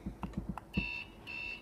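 A short run of quick clicks, then two sustained electronic beeps from an alarm system being disarmed by remote control, faint and close, with no voices.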